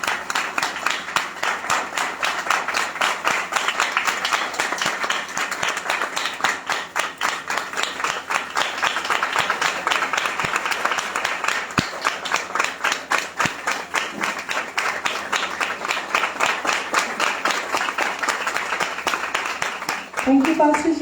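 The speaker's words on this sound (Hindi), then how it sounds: "हम लोग जोरदार ताली बजाकर पासवान का स्वागत करेंगे।" An audience at a church conference claps loudly and steadily to welcome a pastor, a dense sustained round of applause lasting about twenty seconds, filling the hall without letup.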